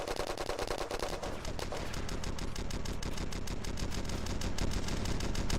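Rapid automatic gunfire rattles on without a break in a futuristic warfare shooter game, loud, dense bursts filling the whole stretch.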